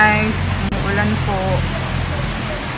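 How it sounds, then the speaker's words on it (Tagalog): Steady rain falling as a broad hiss close by, continuous throughout, with someone talking over it. "Ayan guys, umuulan po."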